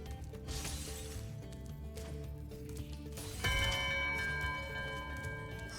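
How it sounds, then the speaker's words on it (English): A bell rings in Spyro 2. Its bright, sustained metallic tone comes in partway through, fairly close, and rings out over a busy game soundscape. "Rang the first bell."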